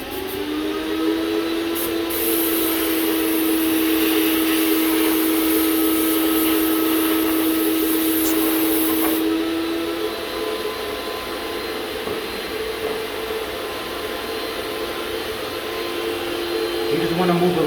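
A vacuum cleaner runs loud and close as a cabinet is dusted off before priming, a steady droning whine with a brief high hiss early on, continuing without a break.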